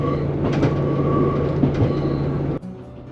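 A train on the West Highland Line to Oban, Scotland, rumbles steadily along the rails beside the River Fillan with a rhythmic clatter and faint squeal, heard from inside, ending with an abrupt drop in noise.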